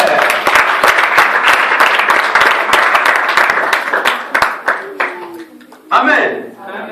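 Congregation at an evangelism campaign service in Brussels claps steadily and loudly, dense applause fading after a few seconds into scattered claps with voices rising over the tail end.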